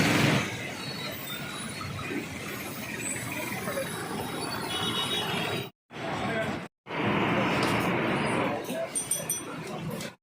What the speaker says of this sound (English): Railway station.